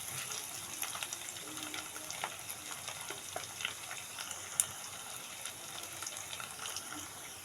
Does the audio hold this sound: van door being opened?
no